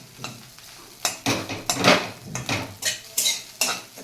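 Bread pieces fried in a pan for Telugu-style bread halwa, stirred with a metal spoon: about eight sharp scraping clanks against the pan in an uneven rhythm over a faint sizzle, close and fairly quiet, no talking.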